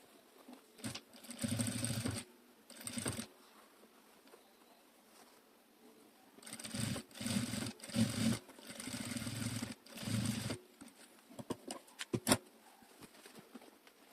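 A sewing machine stitches two pieces of fabric together for a split-brimmed felt hat, running in bursts of rapid, steady whirring separated by pauses and a few close clicks, with no talk.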